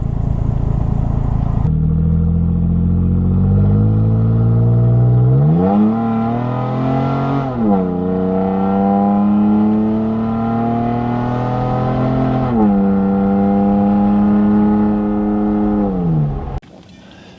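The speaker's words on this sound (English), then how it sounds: "see what the vehicle sounds like with no exhaust" A raw, unmuffled third-generation Toyota Tacoma pickup engine with no exhaust fitted revs up and down repeatedly, pitch climbing and falling in several loud swells before cutting off.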